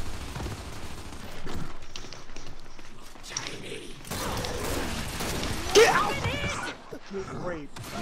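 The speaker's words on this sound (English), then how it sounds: "God, I love the Boltok pistol" Boltok pistol fire in a Gears of War team deathmatch, a few sharp heavy shots amid scattered battle clatter and footsteps, with a player talking over the action.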